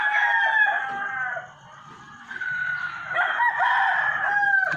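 A rooster crows loudly several times while chickens cluck in the background behind a house at dawn, all fairly close.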